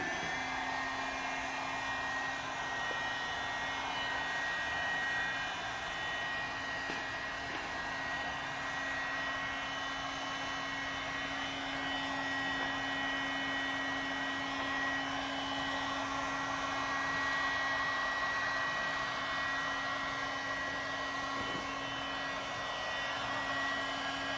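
A heat gun blows hot air steadily over air-release vinyl tint on a car headlight, a continuous even whooshing roar with a fixed whine, close and unbroken, no talk.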